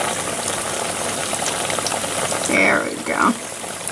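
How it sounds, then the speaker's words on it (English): Battered honey sesame chicken fries in bubbling hot oil, a steady close hiss and sizzle that swells briefly as a piece drops in, while a person speaks a few words over it. "Gets all nice and bubbly, drops in, and frying like a champ."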